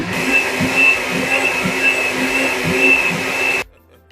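Electric blender running steadily on peppers and water for Edo-style egusi pepper soup, a loud continuous motor whine with a rhythmic churning pulse, then cutting off abruptly near the end.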